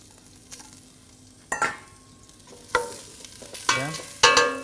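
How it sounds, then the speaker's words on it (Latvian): Onion and garlic hit hot olive oil in a pot, giving bursts of sizzling and crackling that swell and fade several times as the pan is stirred, fairly close and with no talk. "Uzkarsējam kārtīgi eļu, liekam iekšā sīpols ķiplokus."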